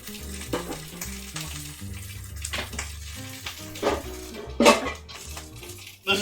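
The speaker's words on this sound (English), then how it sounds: "this is my fryer" Food frying in an old home fryer with a missing handle makes a crackling sizzle mixed with clinks of pots and utensils, over low tonal background sounds with one louder burst near the end.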